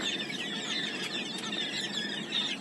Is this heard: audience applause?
no